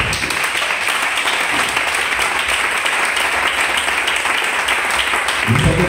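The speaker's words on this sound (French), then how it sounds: "Est-ce que tu peux acclamer très fort pour la parole?" A large church congregation applauding and cheering loudly, a dense, steady roar of clapping and shouts that stays full and even from start to finish.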